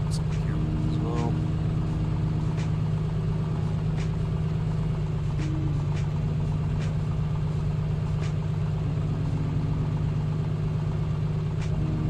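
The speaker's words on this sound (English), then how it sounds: "it sounds like the engine's running a bit too much" A propeller aircraft engine in Microsoft Flight Simulator 2024 drones steadily and evenly at a constant pitch the entire time, around 1,000 RPM, a low continuous hum with faint clicks on top.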